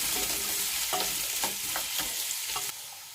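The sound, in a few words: potato pieces and onion stirred in a pot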